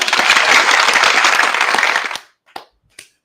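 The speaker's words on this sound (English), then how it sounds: "Clap it up." Audience applause rings out loud and dense, then cuts off sharply after about two seconds, leaving a couple of isolated claps in the quiet.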